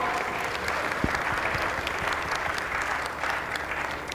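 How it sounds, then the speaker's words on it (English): A gala crowd gives a panel a big, dense round of applause after the final question, sustained and fairly loud from start to finish, with no talk over it. "That was the last question. A big round of applause to our panel, please."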